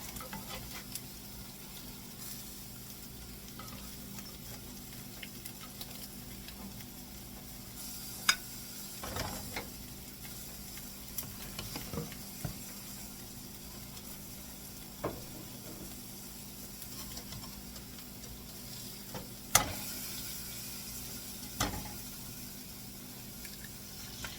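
Eggs frying on top of a breakfast hash in a pan sizzle with a steady low crackle, quiet and close, with occasional sharp clicks and taps of a utensil and no talking.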